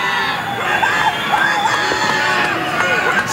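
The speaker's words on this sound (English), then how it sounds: "Spoiler's fans are screaming for him to come up and equalize things with the powerful super heavyweight" Fans at a 1978 Houston pro wrestling match between Ken Patera and The Spoiler scream and shout steadily, a dense, loud crowd roar with higher yells rising out of it throughout.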